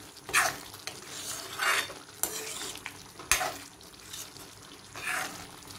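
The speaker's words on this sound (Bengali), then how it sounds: "ভালো করে নাড়িয়ে নেব।" Chicken keema curry being stirred in a pot, with about five distinct spoon scrapes and clanks against the metal over a low background sizzle, close and rhythmic.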